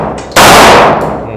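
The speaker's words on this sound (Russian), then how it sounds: "Два выстрела в одну мишень и во вторую." Pistol fire at targets during self-defense shooting practice: a sudden, very loud sharp report bursts out and rings off for over half a second before fading into the background.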